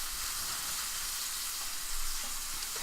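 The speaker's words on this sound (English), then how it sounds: "So I'm just browning the sides of the roast with some butter in a pan and some salt." A roast browning in butter and salt in a pan gives a loud, steady, close sizzle with a dense frying hiss and no pauses, no voices.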